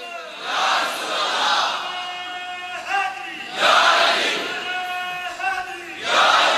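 A large crowd at a religious gathering marking the Battle of Badr chants slogans in unison, with three loud, drawn-out shouted bursts separated by quieter stretches, sounding close and full.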